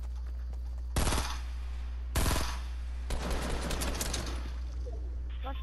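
Gunfire in Fortnite, loud bursts of rapid automatic shots in three clusters over a steady hum, with the last burst longest and more scattered.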